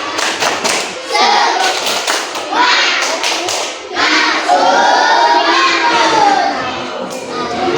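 Children in a classroom clap in a rhythmic burst and chant together loudly, the claps landing in quick bunches before the voices carry on in unison.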